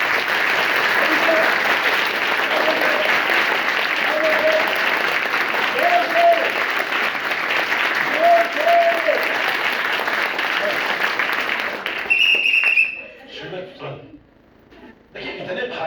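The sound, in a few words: audience applause, loud clapping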